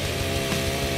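A chainsaw in the Splatterhouse video game roars loud and close in a steady, buzzing drone with a rough, throbbing engine texture throughout.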